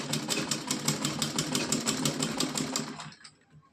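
A sewing machine stitches across both ends of doubled cotton cloth for a small Laddu Gopal dress, a close, rapid rhythmic chatter that runs steadily for about three seconds before stopping.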